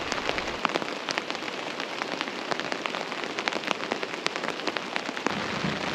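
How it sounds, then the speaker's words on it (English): Steady rain pattering on a surface with scattered louder drops, a dense continuous hiss throughout and no clear thunder, during a storm on the Flindt River in the Wabakimi backcountry. "There's some more thunder."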